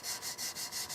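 Sandpaper is rubbed by hand over a surface in about five quick, even back-and-forth strokes, close and steady with no voices.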